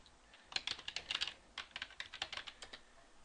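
A password is typed on a computer keyboard in quick, light keystrokes: two short bursts of close, crisp clicks separated by a brief pause, quiet and without speech.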